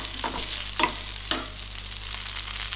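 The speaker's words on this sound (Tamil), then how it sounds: "சின்ன வெங்காயம் 1/4 cup அளவுக்கு சேர்த்துக்கிறேன். சேர்த்து அதையும் நல்லா வதக்கணும்." Shallots and poppy seeds are sautéed in a pan, a soft continuous sizzle broken by a few sharp scraping strokes of a spoon near the start, close and fairly quiet.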